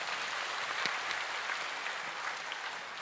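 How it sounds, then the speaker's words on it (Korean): A church congregation at a revival service gives a round of applause, a steady wash of many hands clapping that sounds fairly distant and holds evenly for the whole moment. "우리 감사의 박수 한번 올리도록 하겠습니다"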